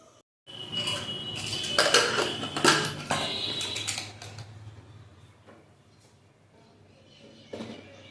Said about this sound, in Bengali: এবার ডিম সেদ্ধটা নামিয়ে ডাল সেদ্ধ বসাবো